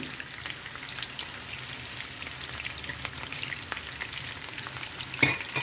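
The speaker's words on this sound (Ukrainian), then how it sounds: "Ось вона підсмажиться. Ось так. І додамо морковку." Carrots frying in a pan for meatball soup, a steady fine crackling sizzle with a brief louder clatter near the end, no talk.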